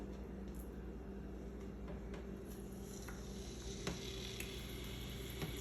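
Chicken pieces sizzling in a hot pan, a soft steady crackle and hiss with occasional small pops, faint and continuous with no talk.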